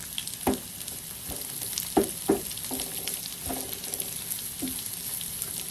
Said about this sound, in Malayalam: നമ്മൾ പുരട്ടി വെച്ച് ആ തേങ്ങയുടെ മസാലക്കൂട്ടും കൂടെ ഈ എണ്ണയിലോട്ട് ഇട്ട് കൊടുക്കാം